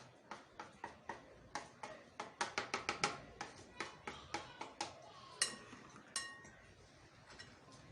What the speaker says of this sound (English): I am going to mix all these spices and I am going to put all these spices in this bowl